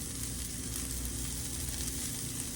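Minced garlic sizzling in a hot pan with pepper, a steady dense hiss and crackle close up, even and continuous with no talking.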